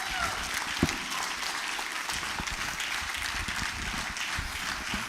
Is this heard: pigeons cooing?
no